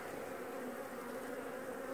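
Honeybees buzz at the hive in a dense, steady drone, a continuous swarm hum without pause or voices.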